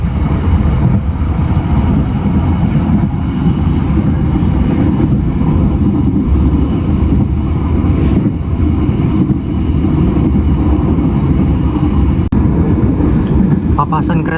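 From inside a moving passenger train on the northern Java line near a port station, a loud, constant low rumble of rails and carriages as another train passes, with occasional clanks.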